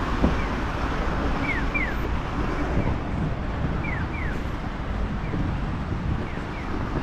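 Water flows steadily beside a temple in Kyoto, a constant broadband wash with no break, heard alongside faint outdoor ambience and a few thin high chirps, moderately loud and even throughout.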